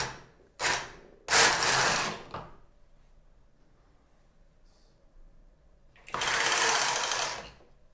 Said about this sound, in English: I push both knobs down and I take my carriage across twice.